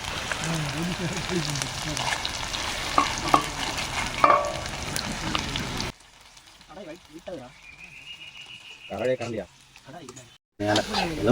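Chicken and chilies frying in a kadai give a loud, close sizzle with stirring scrapes in the first half. People talk under it, then the sizzle drops away and the talk carries on more quietly.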